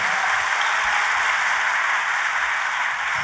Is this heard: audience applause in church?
yes